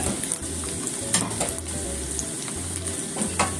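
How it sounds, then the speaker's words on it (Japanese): Tofu hamburger patties frying in a pan over medium heat, a steady loud sizzle with crackling pops and faint utensil clatter, no voices. "中火ぐらいで3分ほど焼きましょう"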